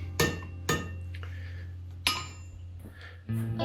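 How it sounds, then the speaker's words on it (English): Hammer blows on a steel piece set over a cut-off hardy chisel in a forge, with three sharp metallic strikes at irregular intervals, close and ringing, plus lighter clinks between them. "So here I hammer the piece onto the chisel"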